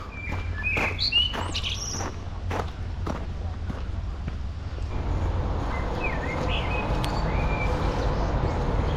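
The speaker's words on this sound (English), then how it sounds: "We've got the birdies chirping here." Birds chirp in brief bright calls over a steady low urban hum in a Zagreb square at night, with footsteps and faint voices of passersby beneath.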